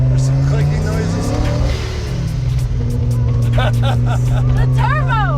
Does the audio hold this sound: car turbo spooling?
yes